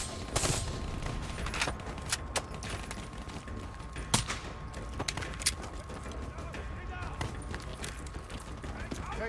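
Burst-fire gunfire in the Black Ops 3 campaign, heard as sharp, scattered shots in short groups over a busy game soundscape, with talk at times.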